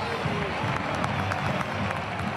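In a football stadium, the crowd applauds a player walking out to warm up, a soft, distant wash of clapping and murmuring that runs evenly through the moment.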